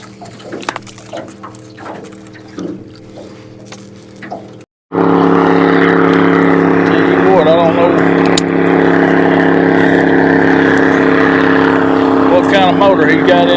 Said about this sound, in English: Motor he got in that ski boat, but he must like for people to hear him coming, because I heard him coming from a mile away.